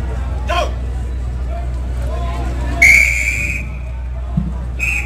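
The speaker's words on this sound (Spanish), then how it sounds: "De aquí las órdenes nada más son a voz del silbato." A whistle blown at an outdoor parade performance to signal orders; a few sharp blasts, one long and loud, over a murmuring crowd and a low steady hum.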